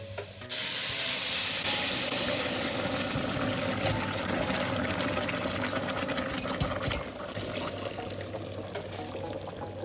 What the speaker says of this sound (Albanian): Bëjmë hedhjen e ujit.